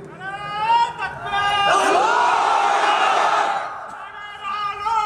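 At an Islamic sermon gathering, a large crowd loudly shouts the takbir chant in unison, a big roaring swell that follows a preacher's voice and is followed by more speech.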